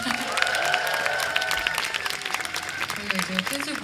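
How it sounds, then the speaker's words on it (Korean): Audience applause for the band at the Seoul Forest Jazz Festival, an outdoor live show, with steady clapping and some cheering from a crowd, and voices carrying over it throughout. "박수 한번 부탁드리겠습니다."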